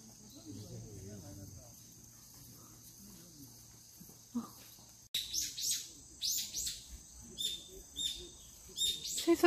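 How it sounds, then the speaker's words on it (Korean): Birds chirp and sing in an arboretum along a walking path, faint at first, then a burst of bright repeated tweets and calls in the second half over a steady insect-like drone, fairly close. "새소리도 좋아요."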